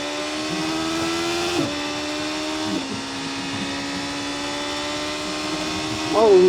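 A 2025 BMW S1000RR motorcycle at speed on the Autobahn, its engine a loud, steady high whine that climbs in pitch, drops at two gear shifts, then surges again near the end.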